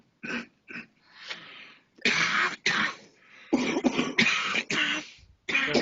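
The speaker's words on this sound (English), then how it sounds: "They have the morning coughing" Repeated harsh morning coughing and throat clearing in bursts, several close, rough hacks separated by brief pauses and breaths.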